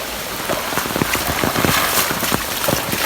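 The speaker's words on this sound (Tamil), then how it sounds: "இப்போதைக்கு கொஞ்சம் மழை குறைஞ்சிட்டுது பட் ஆனால் தொடர்ந்து வந்து கொண்டு தான் இருக்குது" Steady rain still falling after easing off during a flood, a dense hiss of drops pattering on surfaces nearby, continuous and fairly loud with scattered heavier taps.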